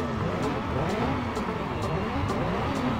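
Jet ski engine in the racing video game Riptide GP2 drones steadily and loudly with rising and falling revs throughout, under a voice.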